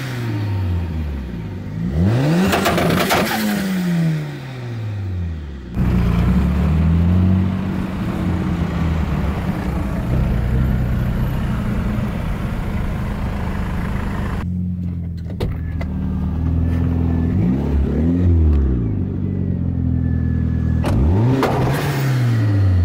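A BMW E30 or Toyota Starlet roars through repeated full-throttle pulls on a chassis dyno, with launch control and rising-then-falling engine sweeps, loud and close, punctuated by a brief quieter gap.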